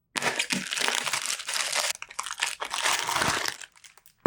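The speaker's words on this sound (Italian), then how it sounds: "Se riesco a aprire qui, qua ci vuole un tutorial solo per aprire questo nastro, per levare il sigillo." Dental-style adhesive wrapping tape, used to wrap a variable-stroke tattoo machine, is pulled and peeled open with loud close crinkling and crackling bursts, then stops abruptly near the end.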